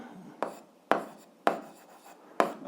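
Pen writing an algebra solution on paper, four distinct scratchy strokes at uneven intervals, each fading quickly, close up and quiet with no speech.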